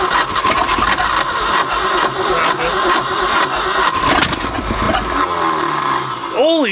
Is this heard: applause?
no